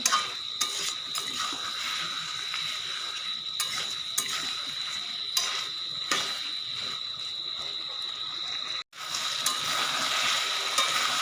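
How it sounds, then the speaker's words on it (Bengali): Fried potatoes and taro being sautéed with spices in a pan, giving a continuous bright sizzle with intermittent scrapes and knocks from stirring, close up and steady, briefly cut off near the end. "আলু আর গাঁটি কচু। দিয়ে মশলার সঙ্গে একটু কষিয়ে নেব।"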